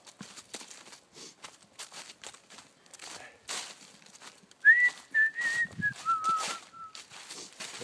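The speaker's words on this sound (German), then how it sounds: "Also, dann pfeife ich ein bisschen und so." A person whistles a short, clear melodic phrase outdoors on the Winterstein in the Taunus during a bushcraft hike. The whistling is near and moderately loud, following a stretch of faint rustling and footstep-like crackles.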